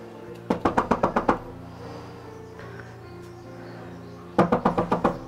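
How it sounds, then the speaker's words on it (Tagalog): Two bursts of rapid knocking on a house door, seven sharp raps each, loud and close, separated by a few seconds of quiet room tone. "tugin na natin ang pinto"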